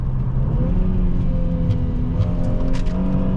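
A 2015 Mercedes-Benz E350 4MATIC accelerating, heard from inside the cabin as a steady, fairly loud engine drone whose tones climb gradually in pitch over road and wind noise.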